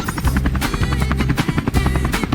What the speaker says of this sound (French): c'est pour faire venir un avion